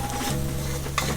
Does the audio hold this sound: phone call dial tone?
no